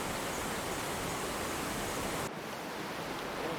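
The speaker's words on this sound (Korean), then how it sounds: "6코스 중간쯤에는 폭포가 바다로 직접 떨어지는 소종방 폭포가 있습니다." Sojeongbang Falls on Jeju's Olle Trail route 6 drops straight into the sea, giving a steady, dense roar of falling water that briefly dips then continues, close and loud with no voices.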